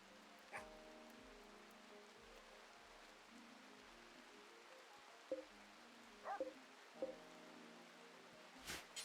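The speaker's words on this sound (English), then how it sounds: "Ooh, it's raining." Steady soft rain hiss fills the weather of the colony-building video game Rimworld, falling under quiet tonal game music, with a few faint clicks and interface blips.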